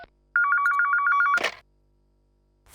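An old-style telephone rings once in a crime drama series, a loud close electronic trill lasting about a second, followed by a brief clattering knock as it is picked up, then quiet.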